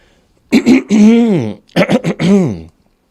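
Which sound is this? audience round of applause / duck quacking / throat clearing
throat clearing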